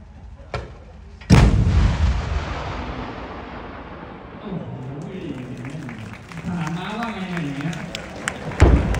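An army artillery gun fires at Khao Phu Lon range, a single loud, booming blast with a long rumbling decay, followed by talk and a distant second thump.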